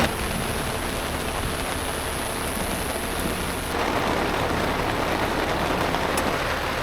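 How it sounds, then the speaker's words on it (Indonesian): Heavy rain pours during a solo camping trip on Mount Pangradinan with ultralight gear, a dense, steady hiss that swells slightly louder partway through, with no talking. "hujannya besar sekali"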